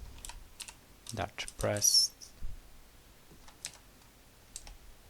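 Computer keyboard keys are typed in quick uneven bursts with a few mouse clicks, fairly faint and close, mixed with a little talking.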